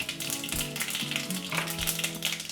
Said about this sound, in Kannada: ಇದಕ್ಕೆ ಸಾಸಿವೆ ಹಾಕ್ತಾ ಇದ್ದೀನಿ.